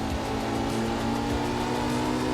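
A Porsche's engine drones steadily in a racing video game's career mode, a continuous mid-pitched hum with tyre noise and no speech.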